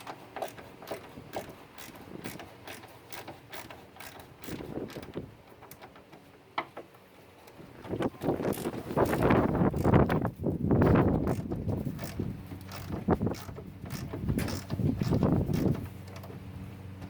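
Bolts on a Honda Del Sol hood are loosened with a ratcheting wrench, giving rapid mechanical clicking in short bursts that grows louder and busier in the second half, heard close up with no talking.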